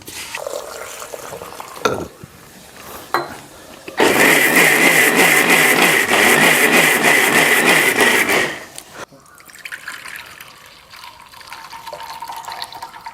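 A mixer grinder whirs loudly for about four seconds grinding ragi with grated coconut to extract milk, framed by quieter clinks and handling sounds before and after.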